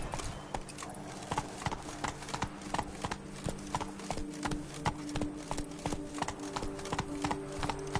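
Horse hooves clip-clop at a steady trotting rhythm in The Witcher 3: Blood and Wine, sharp and close, with low game music underneath.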